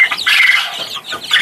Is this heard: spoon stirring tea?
no